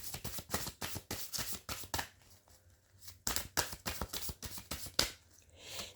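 Tarot cards being drawn and handled from a deck: a quick series of crisp, close paper flicks and slaps in an uneven rhythm, with a short lull midway before the snapping resumes.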